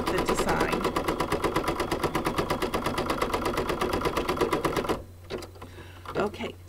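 An embroidery machine stitching cotton fabric down onto felt, with a rapid, even mechanical clatter for about five seconds that then stops, followed by quiet talk.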